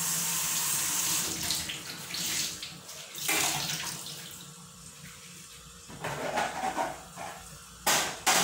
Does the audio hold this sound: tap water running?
yes